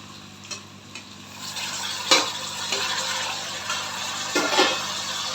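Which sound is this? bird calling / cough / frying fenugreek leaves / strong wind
frying fenugreek leaves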